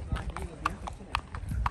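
A horse's hooves clip-clop at a steady walking rhythm on Mall Road in Murree, close and distinct, with people talking over the hoofbeats.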